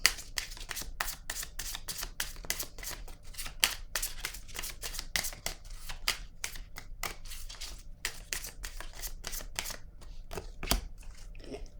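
Tarot cards are shuffled for a reading, a rapid, dense run of crisp flicks and riffles, close and steady, slowing and thinning toward the end, with no talking.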